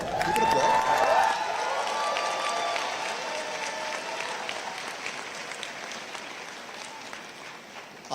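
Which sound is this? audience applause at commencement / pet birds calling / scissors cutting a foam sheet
audience applause at commencement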